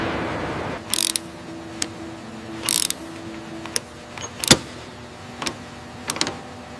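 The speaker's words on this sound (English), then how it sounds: "Moving the hoist into position." Hoist positioning a part during AH-64 Apache helicopter restoration: intermittent short whirring motor bursts with clicks and a sharp metallic clank, separated by quiet workshop hum, close by and moderately loud.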